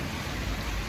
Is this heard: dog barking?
no